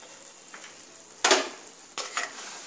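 Vegetable oats with coriander leaves stirred in a pan, with two distinct scraping, clattering strokes of the spoon against the metal over a quiet hiss.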